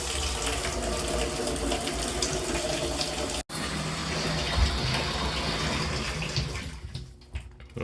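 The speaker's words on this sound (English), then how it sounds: "we'll fill the clean water tank using the tub here" Hot water runs steadily from a tub tap into the clean water tank of a carpet steam cleaner, a continuous splashing flow with a brief cutoff partway through, then resuming and tapering toward the end.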